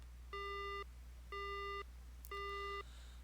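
Three identical electronic tones from the game Spirit Hunter: NG, a phone call ending, each a steady half-second beep repeated at one-second intervals, moderately loud over a low constant hum, with no talking.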